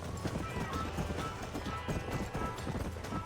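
A horse gallops in the video game Red Dead Redemption, its hoofbeats a steady, quick clip-clop rhythm that stays fairly quiet throughout.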